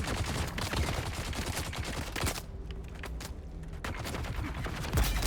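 Gunshots at a G4 testing station in Dune: Awakening, a steady stream of loud, rapid overlapping fire that thins briefly in the middle before resuming.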